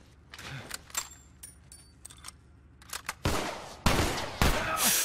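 Scattered gunshots in a firefight from The Last of Us Remastered, sparse sharp cracks at first, then several loud close bursts near the end over a quiet background.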